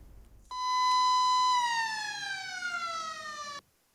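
A school siren sounds at an exam centre, one loud, steady electronic tone that starts abruptly, holds for about three seconds with a slowly falling pitch, then cuts off.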